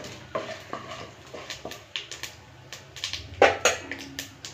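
Tomato chutney seasoning fries in a pan with a soft steady sizzle, broken by repeated scraping stirs of a spoon against the metal, close and fairly loud.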